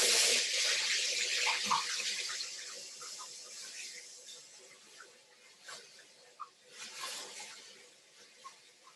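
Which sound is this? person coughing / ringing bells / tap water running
tap water running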